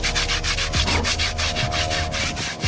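A medium bristle brush scrubs a car tire in close, loud, rapid back-and-forth strokes, steady and rhythmic without pause.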